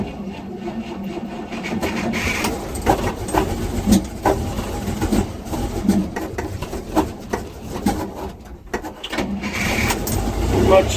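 A GMC V-12 engine catches and fires up, with irregular uneven bursts of combustion and clattering under people talking nearby, settling into rough running.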